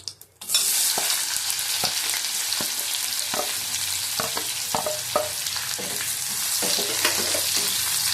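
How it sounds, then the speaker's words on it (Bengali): Chopped onions sizzle steadily in hot oil for a potato curry. A spoon stirs and scrapes the pan with regular clinks and knocks close by, and no one talks. "ভালো করে ভেজে নেব"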